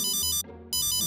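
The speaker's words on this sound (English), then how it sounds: "That's my cell phone." A cell phone rings loud and near in a toy playtime setting, a bright electronic tone in two bursts separated by a short gap, with no talk over it.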